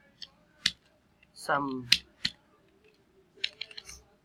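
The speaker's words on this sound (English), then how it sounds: "Now let's go down and type something like" Someone types on a computer keyboard, producing a few sparse, sharp key clicks separated by pauses, with a short burst of voice partway through and a cluster of quick taps at the end.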